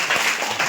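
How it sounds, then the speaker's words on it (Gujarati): Children and teachers clap together at a primary school's children's fair in a village, a brief, dense burst of applause filling the whole moment. "વૈશાલીબેનને તાળી પાડીશું."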